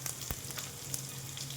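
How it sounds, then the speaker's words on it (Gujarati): Green garlic goes into hot oil for tempering, giving a soft, steady sizzle with a few faint pops over a low hum. The sound is quiet and short. "આજે મારી પાસે લીલું લસણ છે તો હું વઘારમાં થોડું લીલું લસણ પણ નાખું છું."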